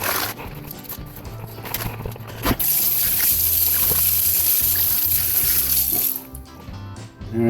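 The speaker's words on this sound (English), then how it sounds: "I need to drain all of the water out of these bags" Water pours and splashes steadily out of plastic bags into a kitchen sink, a loud continuous gush that starts abruptly and runs for several seconds before tapering off.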